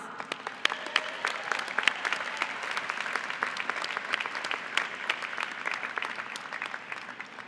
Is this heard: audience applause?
yes